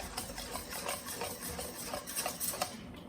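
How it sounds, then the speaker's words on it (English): A spoon stirs a mixture in a bowl, quiet rhythmic scraping and soft clinks repeating close by, with no one talking. "Give it a little bit more of a stir here."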